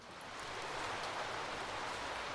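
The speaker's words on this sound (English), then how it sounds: "Oh, it's raining." Rain in a visual novel video game falls as a soft, even hiss that fades in and holds steady, faint and without voices.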